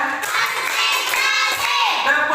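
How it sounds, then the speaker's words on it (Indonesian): A group of schoolchildren claps and shouts together in a lively, dense burst, loud and close, with overlapping young voices. "Tepuk 1, tepuk 2, tepuk 3, tepuk 4"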